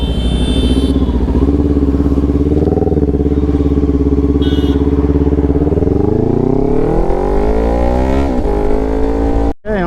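A motorcycle engine drones loudly and steadily on a mountain road between Delhi and Almora, with a deep, close exhaust note and wind rush. Near the end the pitch climbs as the rider accelerates, and it then cuts off abruptly.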